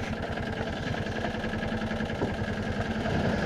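An AMT 622 utility vehicle's engine runs steadily, a close, continuous mid-pitched drone with a rough pulsing texture and no break throughout.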